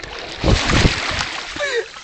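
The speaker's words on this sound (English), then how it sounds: "as you can see, I've just slid into the water" A person slides knee-deep into Canadian water, making a few close splashes and sloshing sounds, with brief high whistling or bird-like tones near the end.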